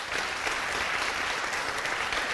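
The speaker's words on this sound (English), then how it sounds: "let's give Christopher a round of applause" Audience applause at a city council regular meeting, a steady dense clapping from a crowd filling the room, sustained at even loudness throughout with no talk over it.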